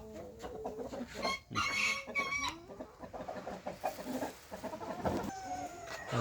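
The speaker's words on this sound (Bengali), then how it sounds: "এগুলো হচ্ছে কলম্বিয়ান লাইট ব্রাহ্মা মুরগি" Columbian Light Brahma hens clucking in their coop, a busy overlapping chorus of clucks and squawks close by, with one louder call standing out.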